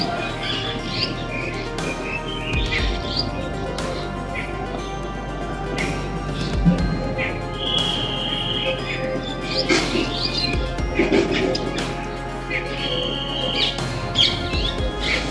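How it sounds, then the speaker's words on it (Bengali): Parrots calling outdoors on a sunny village afternoon, scattered shrill squawks and chirps coming at intervals from a moderate distance over a steady background hum. "টিয়া পাখি ডাকছে"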